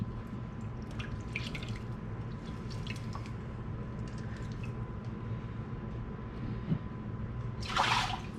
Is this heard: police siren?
no